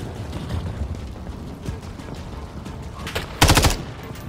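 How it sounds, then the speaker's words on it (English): A short, loud burst of rapid gunfire rises out of a noisy, busy background near the end, in Call of Duty: Modern Warfare 3. "Yeah, it sounds like gunshots."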